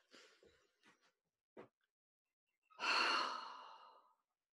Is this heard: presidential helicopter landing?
no